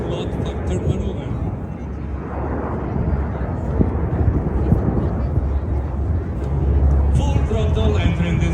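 An MB-339 jet of the Frecce Tricolori solo display at full throttle during an airshow, a steady loud roaring rumble that swells toward the end, heard from a distance with a commentator talking over it.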